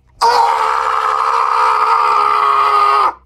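A single sharp, high-pitched scream rings out, sustained for about three seconds before cutting off abruptly.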